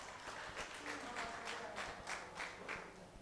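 Applause from the crowd at the Namo Chashak 2024 cricket player auction in Wai, scattered clapping bursts rising and falling over a few seconds with background chatter and a voice under it.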